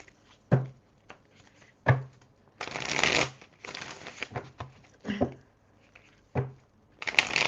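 Tarot cards being shuffled by hand during a reading, with repeated riffling bursts and soft slaps at close range, alone with no talk.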